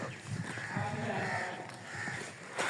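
Cows on a dairy farm, several animals lowing and mooing in overlapping calls that carry steadily through the clip at moderate distance.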